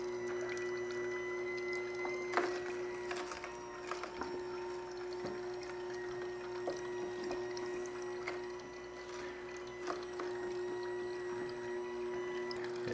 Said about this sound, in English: The claim that this is quieter than other masticating juicers is absolute bullshit.